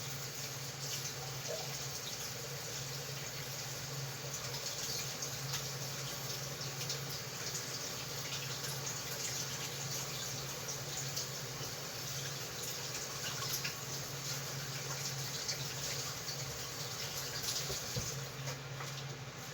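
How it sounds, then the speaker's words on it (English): Tap water running into a kitchen sink while hands are washed, a faint, steady, continuous splashing flow with no one speaking. "Wash my hands."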